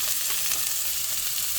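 Food sizzling steadily in an enameled cast iron pan while it is stirred, a dense, loud, continuous hiss close up with no voices.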